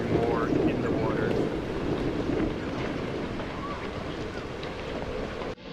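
A muffled, low rumbling underwater ambience, pitched down and dulled with EQ, drones steadily with a dense murky wash and faint swirling tones throughout, ending abruptly.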